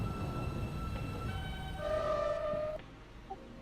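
A New York subway N train runs in the OpenBve simulator, with a steady rumbling drone, a rising whine, and a sharp signal-like tone near the end.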